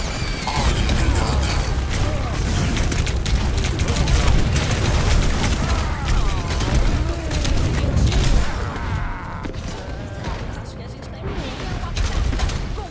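Chaotic gunfire in an online video game on laggy servers, rapid overlapping shots and mechanical clatter running continuously at close range, with voices talking over it.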